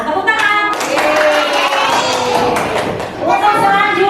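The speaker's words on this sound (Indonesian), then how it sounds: "Tepuk tangan." Schoolchildren in a first-grade primary classroom clap together after a teacher's prompt, a loud burst of quick claps mixed with voices and a few thumps, dipping briefly before picking up again.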